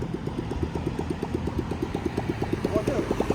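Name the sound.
motorbike engine running oddly, Phuket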